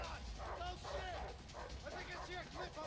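Dog barks and yips in the video game Way Out, a string of short excited calls heard under loud, frantic talking throughout.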